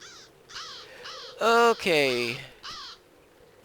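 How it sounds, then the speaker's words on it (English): Crows caw in the video game Lord of the Rings Online, several harsh, clear calls in short bursts, with a louder drawn-out pair in the middle and a brief spoken word alongside. "Some crows."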